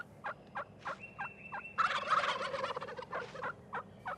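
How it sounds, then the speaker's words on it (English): A wild turkey tom gobbles, a loud rapid rattling burst after a few short calls, with another bird's call and a whistle-like tone alongside, fairly near. "A gobble can be heard up to a mile away"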